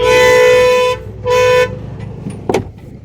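Two long, loud car horn blasts sound on a busy road during a stop in light traffic, followed by quieter passing vehicle noise and a brief sharp knock.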